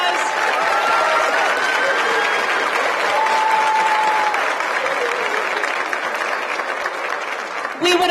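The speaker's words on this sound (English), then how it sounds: "If we could give Mrs. McMurtry a big round of applause" Sustained applause from a school kindergarten celebration audience, dense steady clapping filling the room for several seconds before tapering near the end, with faint voices mixed in.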